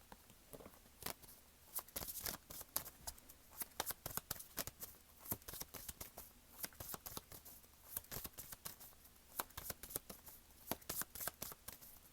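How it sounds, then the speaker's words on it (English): Tarot cards are shuffled with rapid, crisp riffling and slapping in irregular bursts, close and fairly quiet, without talk. "let me go ahead and pull a card for that."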